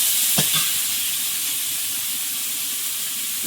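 Large prawns sizzling in hot oil in a pan, a steady frying hiss throughout with a couple of brief clatters near the start, heard close with no talk.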